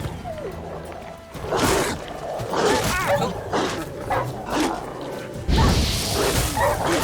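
Dogs bark and growl in The Witcher 3, several loud, close barks in irregular bursts mixed with combat whooshes and thuds.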